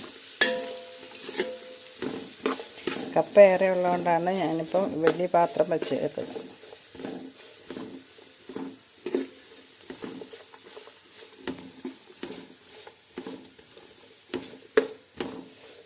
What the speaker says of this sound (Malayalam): ഇപ്പോൾ ഞാൻ ഇതിലേക്ക് സവോള ഇഞ്ചി വെളുത്തുള്ളി എന്നിവ വഴറ്റിയെടുക്കാൻ പോവുകയാണ്